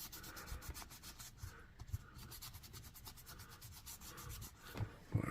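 Cured J-B Weld epoxy is rubbed off a stainless steel knife blade, a close, rhythmic scratchy rubbing in quick repeated strokes, with a few louder scrapes near the end and no voices.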